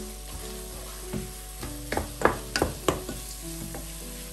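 Chopped pistachios and almonds stirred into radish halwa in a pan, a few soft scrapes and taps of a spoon at an irregular pace over a faint background hum, quiet and close.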